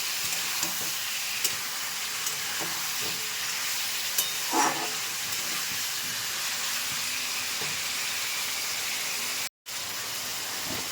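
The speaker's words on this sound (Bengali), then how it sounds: "মাংসটা দিয়ে কিছুক্ষণ আমি একটু ভেজে নিচ্ছি" Chicken pieces frying in a pressure cooker pan give a steady, loud hissing sizzle with occasional stirring scrapes, continuous and close with no talking.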